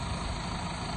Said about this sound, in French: C'est pas un gros tracteur, hein, mais il fait le boulot.